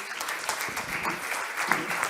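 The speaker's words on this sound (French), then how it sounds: "Je vous propose d'applaudir monsieur Giuliani." An audience at a European affairs interview event applauds Mr Giuliani, steady close-up hand clapping that runs evenly through the whole short moment.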